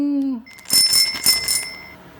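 Bright bicycle-bell style notification chime used as a subscribe bell sound effect, ringing in a few quick metallic dings with a sustained high tone, loud and alone.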